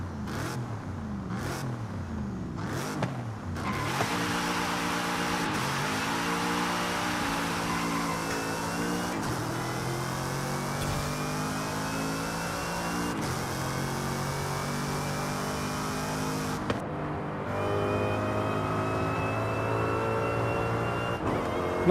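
A Jaguar's supercharged V8 engine in Forza Horizon 5 revs and accelerates steadily through the gears, with a continuous loud whine and roar and sharp shifts in pitch.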